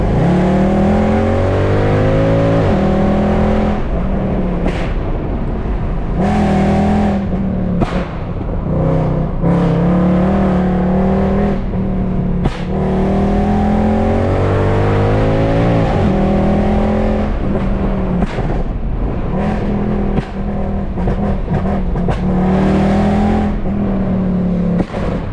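A Mercedes C63 AMG in sport mode accelerates hard along a winding road, its engine repeatedly revving up through the gears with sharp shift breaks and loud, continuous in-cabin roar.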